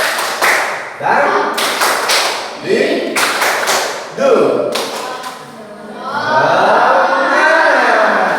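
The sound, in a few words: children doing a rhythmic class clapping routine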